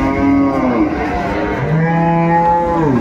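A cow and her calf moo loudly at a cattle market (haat) in Aftabganj, with long overlapping bellows filling the clip without speech.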